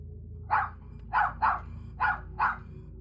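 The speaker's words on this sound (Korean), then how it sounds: "내 울부짖음에 버디도 놀랐는지 함께 짖기 시작했다." A dog named Buddy barks five times in short, sharp bursts at a steady rhythm, fairly close, over a low steady hum inside a small studio apartment at night.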